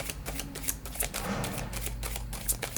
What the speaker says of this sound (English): this deck is actually one of my favorite decks to shuffle. It shuffles like butter